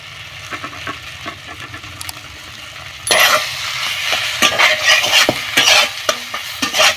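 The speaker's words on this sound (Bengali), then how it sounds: "ধনে পাতা দিয়ে আমি হালকা একটু নাড়িয়ে নেব" Spoon stirring a spiced chilli stuffing mixture with chopped coriander in a pan, steady scraping and clinking strokes close up, growing louder and busier partway through with faint sizzling underneath.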